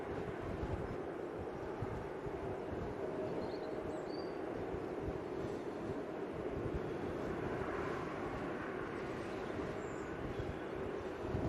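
An Embraer E195 jet arriving at Manchester Airport in gusty wind makes a faint, distant, steady rumble mixed with low wind buffeting on the microphone, with no talking.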